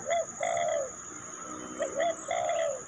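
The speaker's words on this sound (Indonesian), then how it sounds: "Ini yang dekat paling burung kutilang." Sooty-headed bulbuls call near coconut trees in two bursts of short, clear warbling phrases separated by a pause. The calls sound fairly close and ring over a steady high background hiss.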